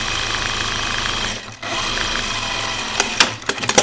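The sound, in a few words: sewing machine sewing oven mitt straps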